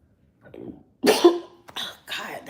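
A short hack is followed by a loud, harsh cough and two more rough coughs, close and sudden against silence.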